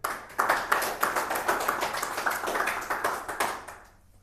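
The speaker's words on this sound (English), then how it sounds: "Please give a big round of applause for him." Audience clapping for Narendra Modi, India's Prime Minister, at the Brain Bench Institute, a steady run of hand claps across the clip that thins out and fades near the end.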